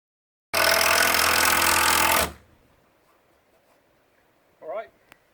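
A power tool driving big screws out of a wooden pallet, one loud continuous burst of about two seconds that stops abruptly, followed by quiet room noise and a brief voice near the end.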